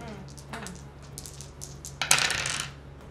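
Dice rolled during a tabletop board game, a short clattering rattle across the table building to a bright tumble near the end, with faint voices in the background.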